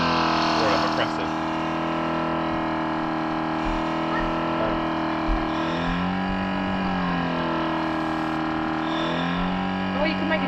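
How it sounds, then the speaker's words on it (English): A homemade hookah diving air pump runs with a steady hum whose pitch swoops up and down as its revs change, continuous and fairly loud throughout. "At the moment, every time I breathe, the pump changes revs."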